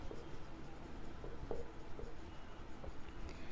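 Pen scratching on paper during a class 12 commerce accounting lecture, soft, close strokes in short irregular bursts over a faint steady room hum.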